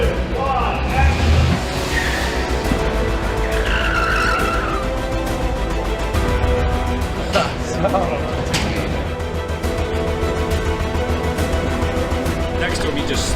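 Car chase filmed for Captain America: Civil War, with cars roaring past and tires squealing and skidding continuously, loud and close, and voices talking over the action.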